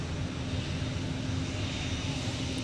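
An Airbus A321neo's geared turbofan engines at Minneapolit-Saint Paul airport give a steady, droning whine with a sustained tonal hum. The sound is loud and close, holds even for nearly three seconds and has no talk over it.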